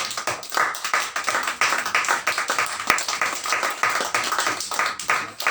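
A church congregation claps steadily and rhythmically, a dense, close patter of many hands that keeps going for the whole stretch with no voices over it.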